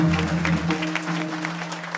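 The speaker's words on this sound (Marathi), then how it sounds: "टाळ्या वाजवा त्यांच्यासाठी" Audience clapping at a Marathi kirtan gathering during an Akhand Harinam Saptah, brief scattered claps over a loud sustained hum from the sound system.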